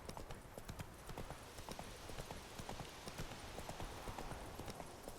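Horse hooves clip-clop at a steady walking rhythm in The Witcher 3: Wild Hunt, an automated ride along a path, moderately loud over continuous game ambience.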